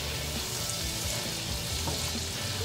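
Steady sizzle of food frying in a pan on the stove while cooking a vegan chicken fettuccine Alfredo, a continuous crackling hiss up close with no talk.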